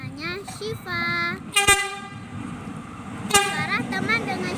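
A train horn sounding in two blasts with a rumble of the passing train beneath, loud and close, while people talk around it.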